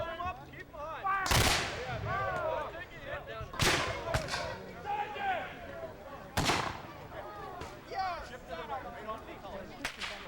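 Several muskets fire in volleys at a Civil War re-enactment, loud sharp reports a few seconds apart, with shouted commands and people talking between the shots.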